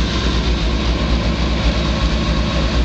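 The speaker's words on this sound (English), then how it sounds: "Come back to the back so you can hear the exhaust and listen." A 1963 Chevrolet Impala SS idling, heard from the rear near the exhaust: a loud, steady, deep rumble with an even low pulse throughout, no other sounds.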